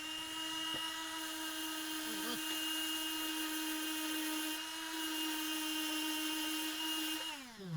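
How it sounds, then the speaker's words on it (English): A power sander whines at a steady high pitch as it roughs out a repaired scooter plastic panel, running continuously and close, then spinning down at the end. "Rough that out with the power sander"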